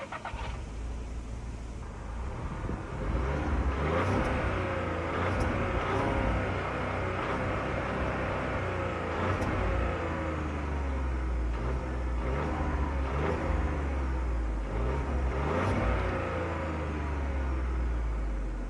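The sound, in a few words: Volkswagen T-Cross R Line engine starting and revving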